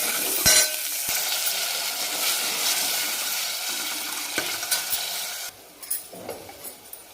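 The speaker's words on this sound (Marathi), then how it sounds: "त्याला छान परतून घ्यायचं 1-2 मिनिट" Ground masala paste frying in hot oil for a village-style dry mutton curry, a steady loud sizzle with a spoon scraping and stirring in the pan, a few sharp clinks, then the sizzle drops away near the end.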